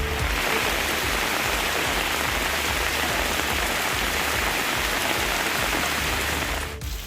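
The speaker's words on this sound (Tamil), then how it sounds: "வேலூர் மாவட்டத்தில் இடி மின்னலுடன் கனமழை பெய்தது." Heavy rain pours steadily and loud in Vellore district, a dense continuous wash of rainfall across the whole stretch with no distinct thunderclap standing out.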